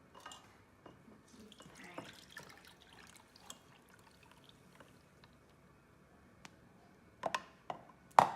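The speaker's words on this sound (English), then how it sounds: "you're going to dump it over the strainer to get all of that foam stuff" Juice poured through a strainer into a glass bowl, a soft trickle and dripping running quietly throughout, ending in a couple of louder splashy clinks.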